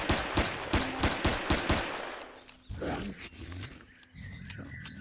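Gunfire against raptors in the survival game Empyrion: Galactic Survival: a rapid run of loud weapon shots in the first two seconds, then snarling creature roars and growls, with scattered softer hits and movement noise afterward.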